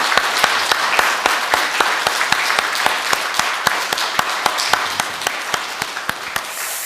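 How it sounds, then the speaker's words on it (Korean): A church congregation claps at a year-end service, a steady run of close claps with a crisp, even rhythm that persists for several seconds. "우리 박수를 통해서 영광을 좀 돌렸으면 좋겠습니다."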